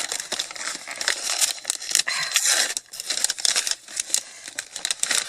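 Tape is peeled and wrapping paper crinkles and tears as a birthday gift package is opened, busy close-up rustling and crumpling in bursts with no talking.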